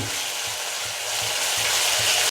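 Onion and spice masala for a paneer snack fries in a pan, giving a dense, steady hiss with a faint rhythmic scrape of stirring underneath.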